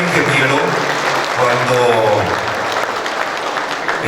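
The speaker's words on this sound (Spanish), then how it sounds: "Fuerte el aplauso para el ingeniero." An audience at a Latin American canola symposium applauds an engineer, loud sustained clapping from a crowd with a voice speaking over it partway through.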